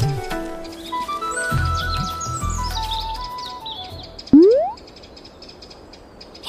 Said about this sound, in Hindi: जहां गिलू कालिया के जाल में कई बेचारे पंछी फंसे हुए थे